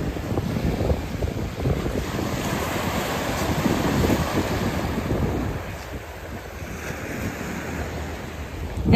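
Atlantic Ocean waves wash steadily onto a cold beach near fishermen's houses, a continuous roaring surf close by with wind buffeting the microphone throughout and no voices.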